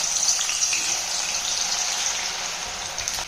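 Raw banana shreds frying in hot oil in a kadhai for chivda, giving a steady, dense crackling sizzle that holds evenly from start to finish with no voices.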